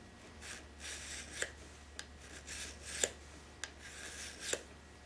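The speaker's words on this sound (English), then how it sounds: "you can just lay your file down flat" A hand file sharpens a blade edge, laid flat against the steel, with quiet, close rasping strokes repeated at an uneven rhythm and marked by a few sharp clicks, with no voices.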